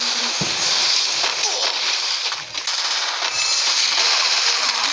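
Shotgun fire and other weapon noise rattles through a Free Fire match, with dense, loud, continuous crackling bursts throughout and no clear gaps.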